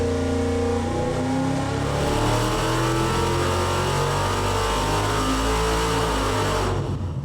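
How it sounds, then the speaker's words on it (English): A rebuilt Ford 390 FE V8 engine roars steadily at high revs under heavy load on a dynamometer, a sustained deep rumble with harmonic whine, close and continuous throughout. "I'm loading the engine at 600 RPM per second"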